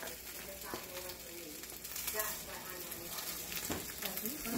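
An egg omelette fries in a pan in a home kitchen, giving a steady, soft sizzle with faint crackles throughout, while children's voices murmur quietly in the background.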